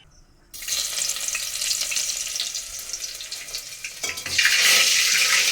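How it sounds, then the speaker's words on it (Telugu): Sudden loud sizzling as tempering spices hit hot oil over cooked dal, a bright crackling hiss that continues steadily, then surges even louder near the end. "పప్పు అయితే ఉడికింది తాలింపు వేసేస్తున్నాను"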